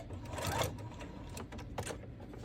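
A sewing machine stitches fabric pieces for a child's patchwork coat in short, quiet bursts of rapid mechanical clatter, with a brief stop and restart.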